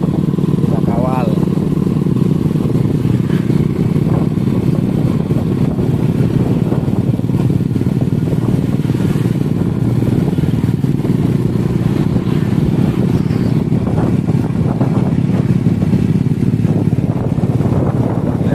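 A Honda CB mini motorcycle rides along, its engine a steady low drone mixed with wind buffeting, close and loud for the whole stretch, with voices talking over it.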